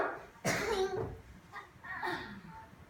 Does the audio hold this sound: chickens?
no